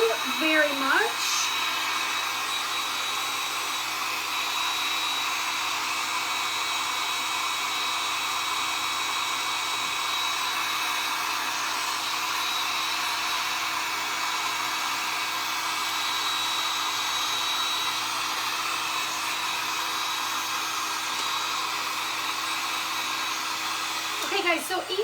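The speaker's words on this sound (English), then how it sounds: "if you like to use torch paste, this is a good heat tool to use" A heat tool blows hot air to dry embossing torch paste on a decorated notebook, giving a loud, steady whirring rush that runs unbroken for the whole stretch with no talking.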